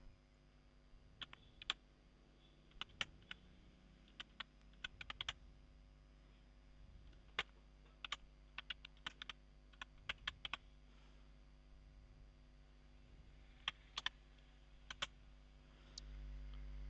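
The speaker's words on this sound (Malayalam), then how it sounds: "നമ്മുടെ മെയിൽ ID ഇവിടെ അടിച്ചു കൊടുക്കുക." Fingers type an email address on a computer keyboard in quiet, scattered bursts of crisp key clicks separated by short pauses, with no talking.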